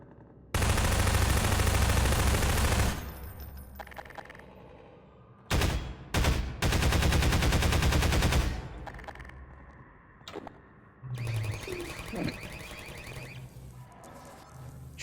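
Gunfire in Half-Life 2 while shooting an enemy: long, loud bursts of rapid automatic fire, followed by shorter bursts and single shots separated by quieter gaps.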